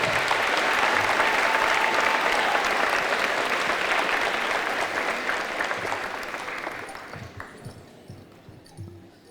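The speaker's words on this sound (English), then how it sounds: "Let's have another round of applause for our music director, Mr. Desjardins." Audience applause for a music director at an eighth grade promotion ceremony, a dense, sustained wash of clapping from a large crowd that holds steady and then gradually thins and fades toward the end.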